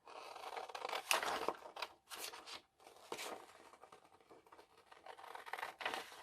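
Scissors snip through vintage sewing pattern paper, close and clear, a run of irregular crisp cuts and paper rustles with short pauses between strokes and no talking.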